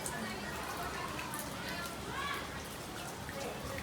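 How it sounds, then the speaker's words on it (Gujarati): The season's first rain patters steadily on surfaces outdoors, a soft continuous hiss with scattered drips, while voices talk faintly over it. "વરસાદ આવ્યો"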